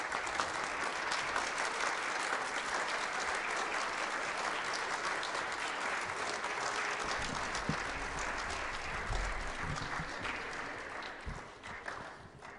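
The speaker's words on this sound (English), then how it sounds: "We'd like to give a round of applause for all of their hard work and commitment" A large audience claps steadily and evenly for child performers after a pageant play, a dense, continuous wash of applause that softens a little near the end.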